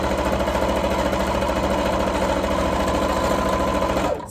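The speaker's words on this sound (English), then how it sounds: "can move this down a little bit for you to see the actual sewing part" A sewing machine stitches a drawstring bag, its steady rapid mechanical whir running loud and continuous close by for about four seconds before winding down at the end.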